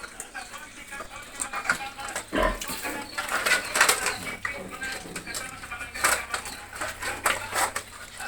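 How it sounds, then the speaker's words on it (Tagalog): A hybrid Duroc pig eats, a run of crunching, chewing and snuffling sounds close by, with occasional louder bumps and clacks. "Hybrid, no? Durok ng klase ng baboy."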